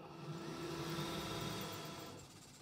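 Igus Rebel robot arm with its top motor jittering, a steady mechanical whine and buzzing hum with a tonal drone that holds for about two seconds, then fades slightly near the end.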